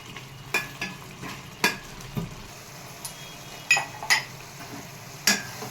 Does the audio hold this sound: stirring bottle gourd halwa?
yes